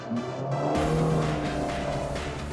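A Mitsubishi XForce drives by with a steady, loud engine and road drone that builds slightly and holds for a few seconds, with no talking.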